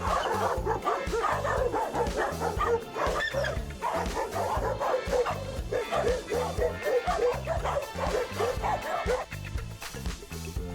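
Several dogs bark, yip and snarl in a scuffle, then whimper as a dominant dog arrives; dense, close and continuous over about ten seconds with no talk.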